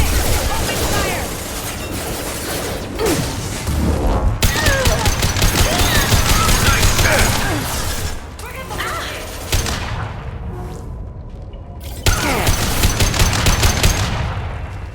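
Sustained automatic gunfire from a firefight in Mass Effect 2, loud and dense bursts rattling across the whole stretch with brief lulls, mixed with voices and combat clatter.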